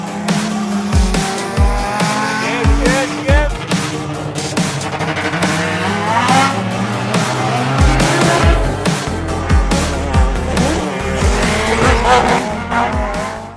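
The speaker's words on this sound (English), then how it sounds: "This is what motor racing is all about." Race cars at the Wallerfield motor racing track in a lively crowd setting, loud engines revving and roaring past with tire squeal, continuous and close throughout.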